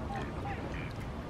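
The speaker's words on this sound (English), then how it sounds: "where's that duck gone? He's just gone underwater." A duck quacks on a pond, the calls faint and scattered against steady outdoor background noise.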